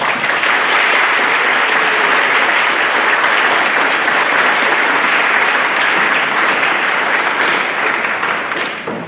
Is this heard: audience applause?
yes